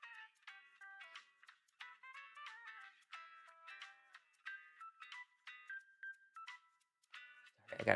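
A string of bright, chiming ringtone-like electronic tones alerts to a text message on a phone during Grand Theft Auto 5, repeating in quick melodic bursts over about eight seconds with no talk.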